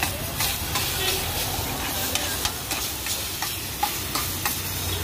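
Tempering spices sizzling over boiled chickpeas at a Chandigarh street food stall: a steady loud frying hiss with stirring scrapes and sharp ticking clinks throughout.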